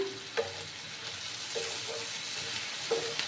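Taro stolons and jackfruit seeds frying with turmeric in a pan, a steady soft sizzle with a few faint stirring clinks, moderately quiet and alone.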